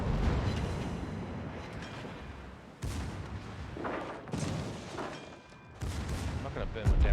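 Heavy warship guns boom in a naval battle video game, a few loud deep blasts with long rumbling tails filling the scene, with a voice talking over them.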